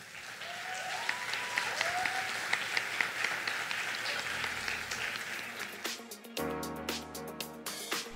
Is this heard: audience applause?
yes